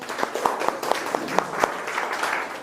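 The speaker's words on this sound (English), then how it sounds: "please clap for yourself first of all" Debate attendees clap for themselves, a moderate round of applause with distinct individual claps standing out over a continuous spread of hands, fairly close and lively.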